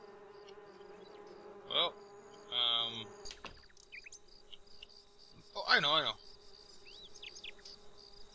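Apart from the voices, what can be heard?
bees buzzing in video game Lakeview Cabin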